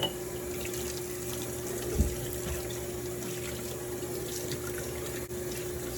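Water runs from a kitchen tap in a steady, even stream to rinse canning jars before making watermelon rind pickle, close by with a single soft knock partway through and no talk.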